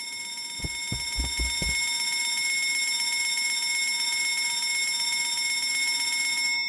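A fire alarm bell in the video game Escape the Backrooms rings steadily and loudly, a continuous metallic clanging with several short thumps near the start.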